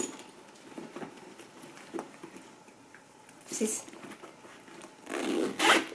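A handbag's zip pocket is zipped shut, with quiet rustling and handling first, then two short, close zipper rasps, the second louder and longer.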